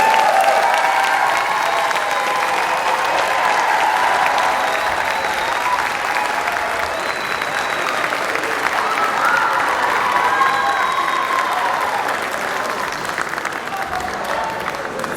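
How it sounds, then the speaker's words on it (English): Sustained audience applause for honor choir students at the CMEA Capitol Section Honor Choir concert, a dense, even wash of many hands clapping with crowd murmur, loud and continuous throughout. "Another great round of applause for these."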